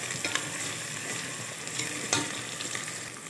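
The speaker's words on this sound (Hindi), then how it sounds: "अब इसमें अदरक डाल दूंगी और इसे भी हल्का ब्राउन करेंगे।" Ginger and onion sizzle and fry in a pan with constant crackling and occasional scraping stirs, quiet and close, no talking.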